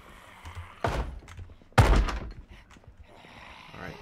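Two heavy thuds hit a door in the zombie survival game Project Zomboid, a dull knock followed about a second later by a louder, booming slam that rings briefly, with faint background noise between.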